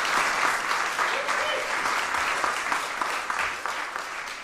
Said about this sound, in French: une bonne main d'applaudissement au service des arts et de la culture de notre ville